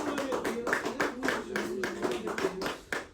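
A church congregation claps in a brisk rhythmic beat, welcoming a preacher during a service, while voices sing or call out over the steady clapping.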